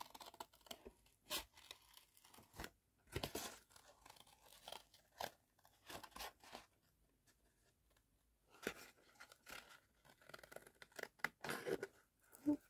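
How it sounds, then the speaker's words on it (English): Paper being cut with scissors to shape an orange for a craft piece, a series of crisp snips and crunching cuts in short bursts with pauses between, close and fairly quiet, no talking. "let's cut out the orange"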